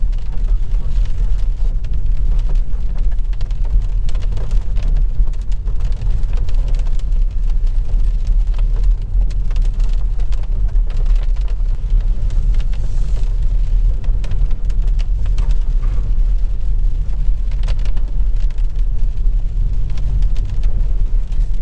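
Kia XCEED 2022 plug-in hybrid with a 1.6 GDI engine, running on electric drive over a rough road full of large potholes and bumps; steady, loud low-frequency road and suspension rumble continues throughout, with no one talking.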